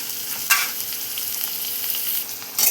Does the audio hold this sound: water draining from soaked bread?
no